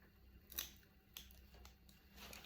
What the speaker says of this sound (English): So we'll do one with scissors